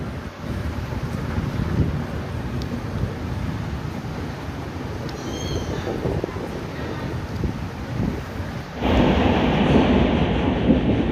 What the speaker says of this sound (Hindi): और ट्रेन अपनी पहुंच चुकी है अयोध्या जंक्शन